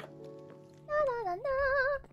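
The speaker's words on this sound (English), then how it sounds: "Sometimes the cat sounds like a ghast." A Minecraft cat meows twice in quick succession, close and clear, each call a drawn-out wavering tone standing alone over quiet game background.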